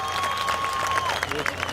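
Audience clapping after a traditional Ribatejo folk song at a Portugal Day celebration in Toronto, a steady patter of applause from a moderate crowd with a sustained tone and background hum.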